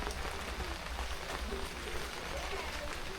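Light drizzle falls steadily in a rural Bangladeshi village, a soft continuous patter on surfaces that stays even and close throughout.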